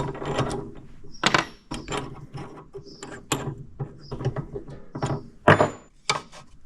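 A hand drill bores into a cork for a homemade fishing bobber, giving repeated short bursts of grinding and squeaking, each a second or so long, separated by brief pauses and close to the microphone.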